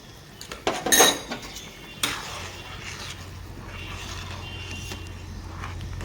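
Vegetable soup stirred in a metal pot, with a brief clatter of a spoon against the pot near the start, then a sharp knock and a low steady hum over faint scraping.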